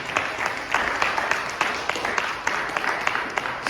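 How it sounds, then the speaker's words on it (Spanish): A church congregation breaks into loud, sustained applause, dense clapping filling the room at close range, following a preacher's sermon. "Denle un aplauso fuerte"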